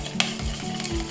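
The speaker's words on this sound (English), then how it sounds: "we're going to stir it up so that way a lot of the carbon leaves" A spoon stirring a hazy IPA beer cocktail to release carbonation, quick clinks and swishes against the glass over a soft fizzing hiss, brief and close.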